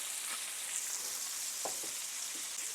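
Seasoned vegetables sizzle steadily in a hot pan, a continuous close frying hiss with a few faint taps from the pan.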